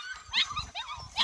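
A small pocket beagle stud dog lets out a quick run of short, close, high-pitched barks and yips over about a second.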